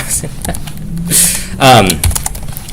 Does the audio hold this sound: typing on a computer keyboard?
yes